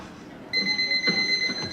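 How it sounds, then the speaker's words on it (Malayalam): An alarm clock in a Mr. Bean scene starts ringing suddenly after a quiet moment, a shrill, steady electronic trill that continues loud and close to the end. "അലാറം അടിക്കുമ്പോ എന്താ പരിപാടി?"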